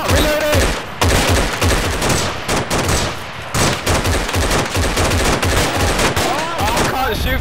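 Heavy gunfire in the Black Legion video game, dense bursts of machine-gun fire and rapid shots rattling almost without pause, loud and close, with players talking over them.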